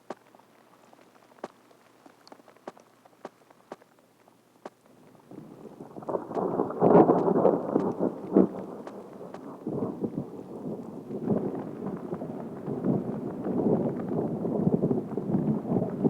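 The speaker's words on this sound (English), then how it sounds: "Thunderstorms are frequent on the prairie." A prairie thunderstorm rumbles in after a few seconds of quiet crackle, building into a steady low roar of thunder and rain that holds on to the end.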